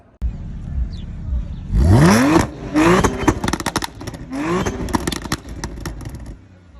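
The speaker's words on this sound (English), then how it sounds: "I went with the stock exhaust with exhaust tips and gutted cats" An Audi S4 with the stock exhaust, exhaust tips and gutted catalytic converters revs hard, close and loud. There are three climbing rev bursts with throaty crackle between them, and no one talks.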